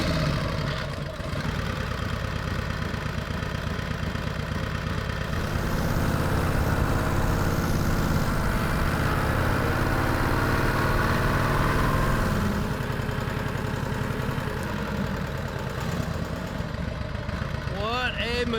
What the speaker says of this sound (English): it doesn't get much better than running down the road on a 1948 Harley-Davidson Panhead